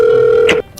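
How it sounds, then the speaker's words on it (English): A telephone in an animated storytime rings once with a bright, steady electronic tone, loud and close. It cuts off abruptly after well under a second, with no talking. "While we're in the middle of talking, Swoozie gets a phone call"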